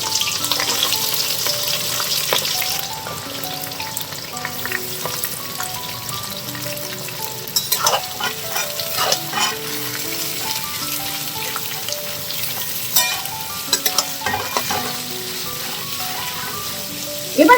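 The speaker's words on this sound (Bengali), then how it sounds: "গোটা মশলাগুলো একটু ভাজা ভাজা হলে আমি এর মধ্যে পেঁয়াজটা ছেড়ে দিচ্ছি।" Whole spices and onion fry in hot oil with a loud, dense, rain-like sizzle that runs continuously, punctuated by occasional stirring scrapes and clinks and a louder knock at the end.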